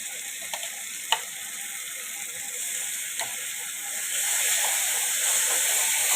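Garlic and ginger paste, three spoonfuls, sizzles in hot oil while cooking a tangra fish curry, a steady broadband hiss with a few faint clicks that swells louder over the last couple of seconds.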